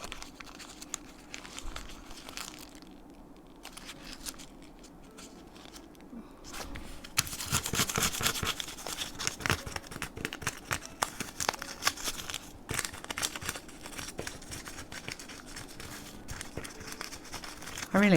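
Paper edges are pulled up and crushed by hand while building a keepsake journal, giving a crinkly, rustling crumple that grows busier and louder partway through, with small tearing crackles throughout.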